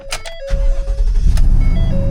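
A Ford box truck with an exhaust leak starting up: a brief chime and starter whir, then the engine catches into a loud, rough, low idle that keeps running.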